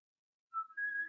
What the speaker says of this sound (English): Does anybody hear some little whistly sounds when they do it?